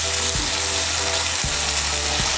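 A splash of water hitting frying spice masala in oil, giving a loud, dense, steady sizzle close by, with a few brief bursts and no speech.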